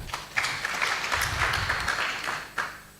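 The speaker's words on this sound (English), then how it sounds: "Please clap for her." Audience clapping fills a housing conference hall, a steady, dense patter of many hands that carries on without a break for a few seconds, fairly close and even in loudness.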